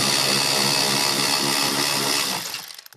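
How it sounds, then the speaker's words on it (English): A power ratchet spins out a 10mm bolt holding the navigation DVD drive behind a carpet flap in a Lexus, giving a loud, steady whirring buzz that runs about two seconds before winding down. "Power ratchet does a pretty good job at it."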